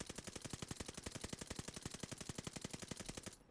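Type 100 submachine gun firing in Call of Duty: Vanguard, a long unbroken burst of rapid, evenly spaced loud shots that runs for several seconds and then stops abruptly, with no talk.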